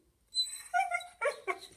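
A dog gives a few short, high-pitched yips and whimpering barks close by, in three or four quick bursts.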